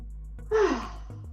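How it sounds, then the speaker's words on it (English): A single deep breath taken during hip stretching, a soft close sigh-like exhale lasting under a second over a low steady hum. "So big deep breaths in and out."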